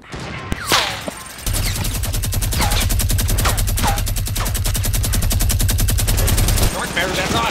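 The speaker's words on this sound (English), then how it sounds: "he's shooting at me" Rapid automatic gunfire rattles in a Fortnite Battle Royale match, one sustained loud burst lasting about five seconds, with a voice speaking before and after it.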